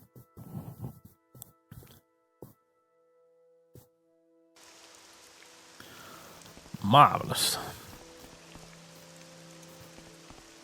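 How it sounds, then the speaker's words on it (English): In the Telvos area of the video game Morrowind, rain begins partway through as a steady, soft hiss of falling drops, with someone speaking briefly over it. "And of course it's raining in Telvos"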